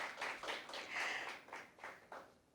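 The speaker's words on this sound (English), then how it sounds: "Round of applause." Audience at a school impromptu speaking competition final claps briefly, a quiet, uneven patter of hands in short bursts that fades out.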